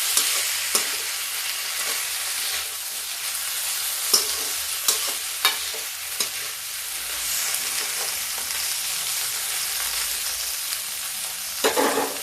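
Cabbage and peas stir-fry in a hot pan with a steady, close sizzle, broken by a few sharp clicks and scrapes of stirring and a louder clatter near the end; nobody speaks.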